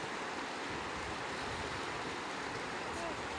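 The Ganges flows calmly past stones at Saptarishi Ashram in Haridwar during low water, a steady, even rush of water filling the whole stretch without pause.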